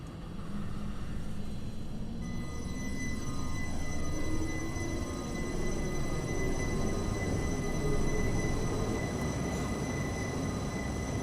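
A Swiss Arosa Line train pulls away from Chur Stadt in Train Simulator 2018. A low, steady rumble of running gear carries a gradually rising motor tone, with faint high whines above, constant and moderately loud throughout.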